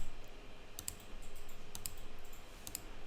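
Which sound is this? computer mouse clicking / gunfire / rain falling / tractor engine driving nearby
computer mouse clicking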